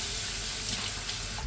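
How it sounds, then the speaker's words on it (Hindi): Tap water runs steadily into a kitchen sink while dishes are washed, a close, constant splashing rush with no voices. "मैंने बर्तन धो दिए, बर्तनों का पानी निकल जाएगा"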